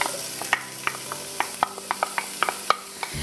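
Chopped onion added to warm olive oil in a pot, sizzling softly with a steady low hiss broken by scattered light pops and crackles, close by with no talk.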